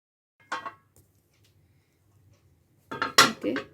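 Food being moved into another pan while homemade bread pizza is made, bringing two brief clusters of metallic scraping and clinking, the second louder and busier, with quiet stretches between.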